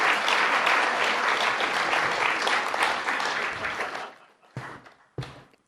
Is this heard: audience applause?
yes